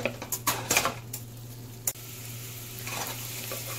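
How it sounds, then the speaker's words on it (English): Onions cooking in butter in a pan, with a few clattering stirs and utensil knocks at the start, then a steady soft sizzle continuing alone. "First thing I'm doing is caramelizing these onions in some butter."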